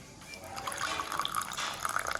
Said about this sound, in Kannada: ಇಷ್ಟನ್ನು ನಾನು ಸ್ವಲ್ಪ ಬಿಸಿ ನೀರಲ್ಲಿ, ಅಂದರೆ ತುಂಬ ಬಿಸಿ ನೀರಲ್ಲ, ಇಷ್ಟು ಸೇರಿಸ್ತೇನೆ.